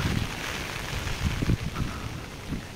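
Strong typhoon wind in Hong Kong roars and buffets the microphone in a continuous rushing blast, with gusty low thumps and no speech.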